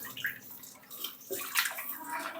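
Water splashes and sloshes in a vessel as chicken pieces are washed, close uneven swishes and trickles with brief louder surges, no talking heard.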